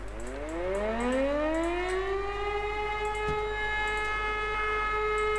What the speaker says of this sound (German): Ja, es hat eine standardmäßige Sirene